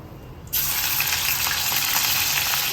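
Ginger garlic paste, green chilies, star anise, cinnamon, cardamom and cloves hit hot oil in a pan for mushroom biryani, setting off a sudden loud, continuous hissing sizzle that holds steady close up, with no talking.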